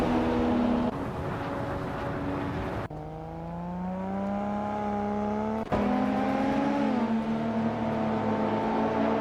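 Racing engines of 1986 Nissan Skyline R31 GTSR race cars drone and rev steadily, their pitch rising and falling through gear changes, with a sharp cut in the sound at about three seconds and another near six seconds.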